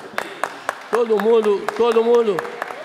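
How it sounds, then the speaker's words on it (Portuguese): Scattered applause rises in a municipal council plenary session while someone speaks over it and his voice dominates the middle of the clip. "Uma salva de palmas para Vossa Excelência."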